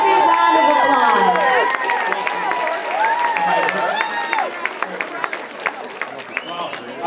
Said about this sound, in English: Let's give this man a very big round of applause.